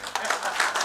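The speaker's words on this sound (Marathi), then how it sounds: "मग टाळ्या का नाही?" Audience applause at a minister's speech on co-operation, a brief spell of crowd clapping that blends with the speaker's voice.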